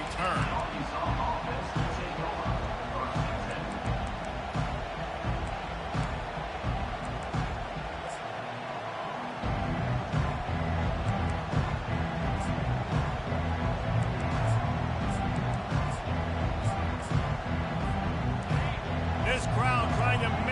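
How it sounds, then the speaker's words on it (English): Stadium crowd roaring steadily through a college football video game broadcast, a dense continuous wash of cheering at even loudness with a brief dip in the low rumble midway, under play-by-play commentary. "This crowd trying to make life miserable for this offense."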